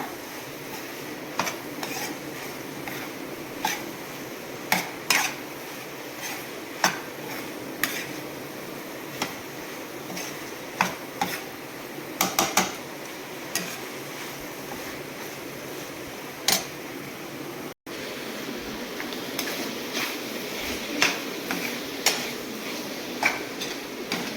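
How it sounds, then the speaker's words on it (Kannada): A spoon clinks and taps against a cooking pot in scattered, uneven strokes while ingredients are stirred together, with ridge gourd frying. The sounds are close and fairly quiet over a soft background hiss. "ಈಗ ಚೆನ್ನಾಗಿ ಮಿಕ್ಸ್ ಮಾಡ್ಕೊಳ್ಳೋಣ"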